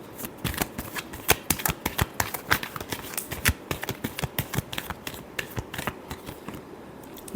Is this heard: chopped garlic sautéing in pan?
no